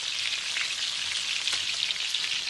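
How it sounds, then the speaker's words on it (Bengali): Grated ginger, garlic, cumin and green chillies fry in hot oil in a pan, giving a close, steady crackling sizzle with no talk over it. "এবার এটাকে আদা রসুনের কাঁচা গন্ধটা না যাওয়া পর্যন্ত একটু ভেজে নিচ্ছি"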